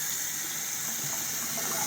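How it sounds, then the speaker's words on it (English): Tap water running freely down a freshly unclogged sink drain, a steady, even gush of flowing water close by with no voices. "You can hear it's flowing straight down the drain now."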